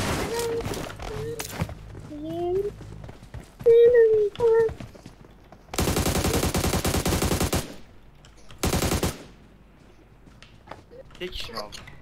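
Automatic gunfire in PUBG Mobile, two long loud rattling bursts close by, interleaved with excited talk and game effect tones.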